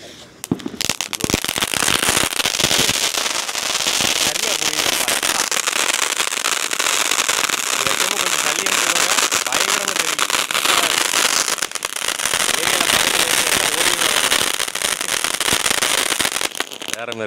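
A Sivakasi Crack Jack fountain firecracker erupts in a dense, loud, continuous crackling hiss of sparks lasting many seconds, starting with a few sharp pops and running steadily to the end.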